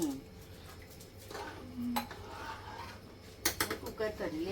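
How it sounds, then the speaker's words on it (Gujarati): A pressure cooker lid is fitted onto the cooker holding spiced khichdi in a home kitchen: sharp metallic clanks, a scrape and a quick clatter near the end, close by, with quiet talking in the background. "કુકર કરી લે બંધ. તો આ લાગી ગયું ઢાંકણું"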